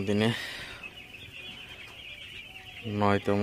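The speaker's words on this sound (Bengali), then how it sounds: "আজকে হচ্ছে আমার ব্রয়লার বাচ্চার বয়স 9 দিন" Nine-day-old broiler chicks on a small poultry farm keep up a continuous high, thin peeping chorus, with a voice speaking briefly over it at the start and end.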